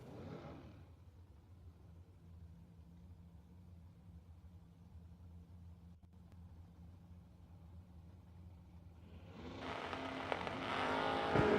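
A second-generation Camaro race car runs on a drag track. A low engine rumble holds steady, then a loud, bright roar from a nearby launch builds sharply toward the end.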